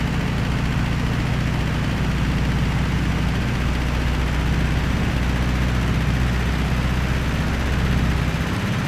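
Air-cooled Volkswagen flat engine in the Gran Turismo 5 racing game, a steady, loud low rumble and drone that holds without a break for the whole stretch, with no voices over it.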